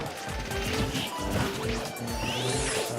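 Forward smash attacks striking in a fast Super Smash Bros. match between Duck Hunt and Sonic, dense repeated crashing thwacks over busy game effects and music, steady and loud throughout.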